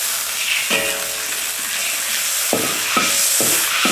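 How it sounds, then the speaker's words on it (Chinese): Garlic and oyster sauce sizzle loudly in hot oil in a wok, a dense continuous hiss with several low knocks of a spatula against the pan toward the end. "在锅里放点油，大蒜子炒香，加入蚝油"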